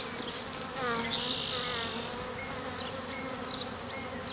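Honeybees hum in a dense, continuous buzz close by, a steady swarm drone with individual bees whirring past.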